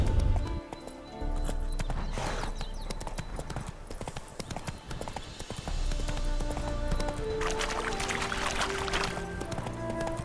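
Horse hooves clip-clopping steadily in The Witcher 3: Wild Hunt, a continuous rhythmic trot close by with an occasional snort, heard alone without talk.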